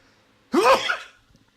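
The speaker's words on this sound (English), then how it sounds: "I need to sneeze." A single sharp human sneeze, loud and close, bursting out abruptly after near silence and trailing off with a soft breath.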